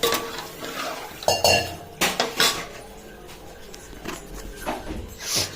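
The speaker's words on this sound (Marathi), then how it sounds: "आणि थोडंसं हलवून घ्यायचं आहे." Metal utensil scraping and clinking against a metal pot while stirring buttermilk for kadhi, in irregular bursts, with a few sharper knocks, close up.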